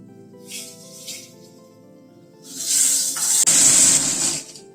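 Fish frying in mustard oil in a kadai after being turned over, a soft crackle early on swelling into a loud, close, steady sizzle with a brief clatter midway.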